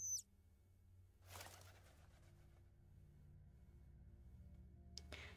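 A bird in the horror video game Angels of Death coos faintly once over a low ambient hum, followed by a flutter of wings, with a brief rustle near the end.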